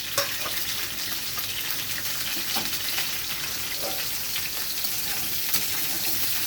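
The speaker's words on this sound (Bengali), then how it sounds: "ফুলকপি ছোট ছোট করে আমি কেটে রেখেছি, এগুলো ভেজে নেব" Small cauliflower pieces fry in hot oil in a wok, a constant loud hiss of sizzling bubbles with faint scrapes and clinks of stirring now and then, no one speaking.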